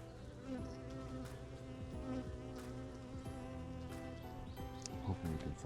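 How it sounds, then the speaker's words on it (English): Honeybees hum steadily and densely close by during a hive inspection, a continuous layered buzz filling the whole clip with faint background voices. "Bees."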